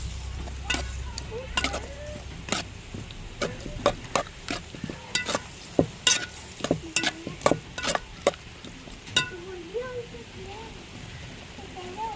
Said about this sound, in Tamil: நம்ம கருவாட்டு குழம்பு அரைச்சி வச்ச தேங்காயும் மசாலையும் சேர்த்துக்குருவாங்க.